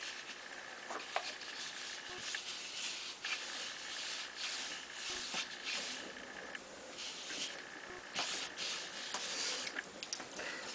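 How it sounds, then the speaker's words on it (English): Ink pad rubbed across an embossed paper card: a steady, close scratchy rubbing that continues through the whole stretch with small uneven strokes, no talking. "I wonder what would happen if I rubbed the top here with the ink pad and did it on the reverse emboss"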